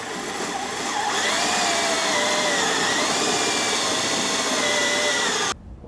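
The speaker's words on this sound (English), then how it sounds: "So let's go ahead and drill our hole." A power drill bores a hole for a bell siphon adapter through a water-heater drain pan in a backyard aquaponics build. It makes a loud, steady whine close by that holds for over five seconds, then cuts off abruptly.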